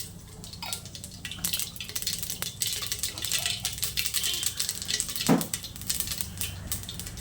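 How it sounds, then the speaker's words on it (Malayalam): Mustard seeds sputter in hot oil as a fairly quiet, crackling sizzle with uneven pops and spits. One sharper burst stands out near the end. "എണ്ണ നല്ലതുപോലെ ചൂടായതിന് ശേഷം അതിലേക്ക് കുറച്ച് കടുക് ഇട്ട് കൊടുക്കുവാണ്"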